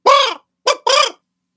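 A raven calls three loud, close caws, one long, then a short one and another long one after a brief pause, with no other sound around them.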